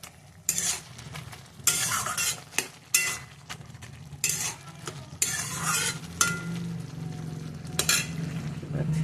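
A sour tomato dish cooks in oil in a pot while a metal spoon stirs it in repeated loud scraping strokes against the pot, over a low steady simmering sizzle.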